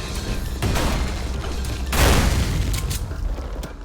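Shotgun blasts in the fast-paced first-person shooter game Ultrakill, a few heavy booming shots with rumbling tails and mechanical clatter, loud and up front, no talk.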